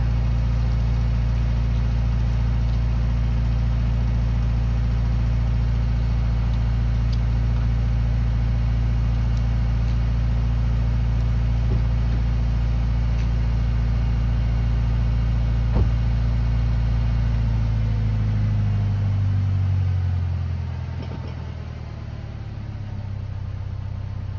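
A Subaru Crosstrek engine with a Nameless Helmholtz exhaust runs loud and steady, low and rumbling, then drops to a quieter idle near the end.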